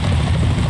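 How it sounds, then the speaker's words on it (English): A helicopter in Metal Gear Solid 2 drones steadily and loud, a thick low rotor rumble filling the whole moment with no speech. "Is that a chopper I just heard?"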